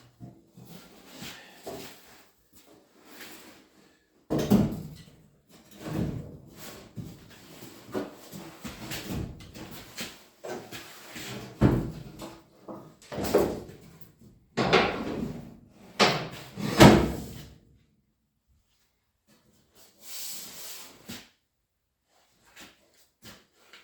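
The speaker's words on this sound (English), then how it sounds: "dig out the tailgate, get these unbolted, and fit the tailgate back on" Work on an old truck tailgate: a run of knocks, scrapes and rubbing clunks as it is dug out, unbolted and refitted, bursts of handling noise in uneven clusters with quiet gaps between, close and fairly loud.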